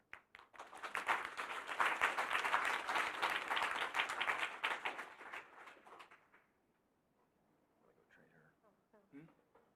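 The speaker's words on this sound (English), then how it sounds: "So a big applause for all of you, I think." An audience at a literary talk breaks into loud applause that builds, holds for several seconds and fades away, followed by quiet with a few faint voices.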